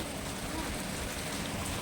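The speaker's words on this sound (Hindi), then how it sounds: "तो बारिश बहुत तेज हो गई है फिर से" Heavy rain pours down outdoors in a steady, dense hiss that continues without a break through the whole stretch.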